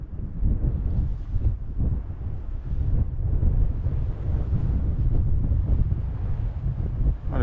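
Gusty wind buffeting a wild forest campsite at night, low roaring and rumbling in uneven surges close to the microphone, with no talk.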